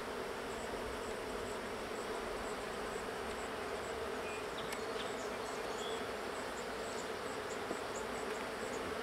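Honey bees buzzing around an open hive frame, a dense steady drone of many insects up close, with no talk.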